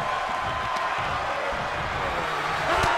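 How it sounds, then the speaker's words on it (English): A loud, steady roar of an arena crowd cheering during a wrestling match in the video game WWE 2K22, dense and continuous throughout. "The sound of this crowd is deafening, and he's asking for more."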